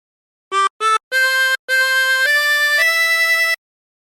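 A 24-hole tremolo harmonica plays a phrase from Be Thou My Vision, two short notes then sustained stepwise tones with a shimmering reedy tremolo, clear and close, ending after about three seconds.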